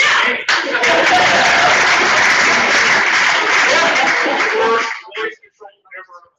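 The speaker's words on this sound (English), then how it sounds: "Let's get a round of applause." A conference audience at lightning talks bursts into loud, sustained applause for about five seconds, then the clapping cuts off and a few brief voice fragments follow.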